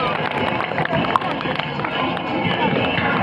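A school audience at an annual function applauds a student with dense, steady clapping that fills the whole stretch, mixed with crowd murmur and scattered voices.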